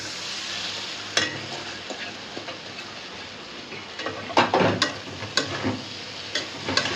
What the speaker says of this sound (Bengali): সুন্দর করে করলাটা দিয়ে দিতেছি সুন্দর করে ভাজা ভাজা হয়ে গেছে